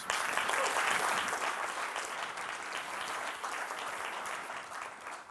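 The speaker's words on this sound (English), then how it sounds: "So start with some applause" A seated audience at a stage event claps in a steady, full round of applause that starts strongest and eases slightly, heard alone without speech.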